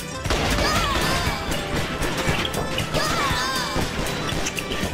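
Pistol shots in a multiplayer shooter game, sharp cracks and smashing impacts firing in quick succession amid loud, dense game action.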